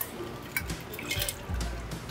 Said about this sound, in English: And then you pour.